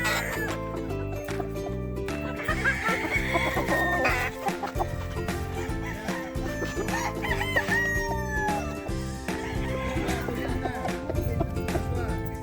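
A Sweater Gilmore gamefowl rooster at a game farm crows and clucks, with other fowl around it, over steady background music that runs through the whole stretch.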